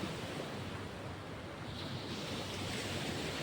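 Sea waves wash onto the shore in a steady, broad roar, with wind buffeting the microphone and no talking.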